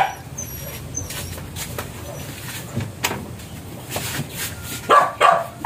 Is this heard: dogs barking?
yes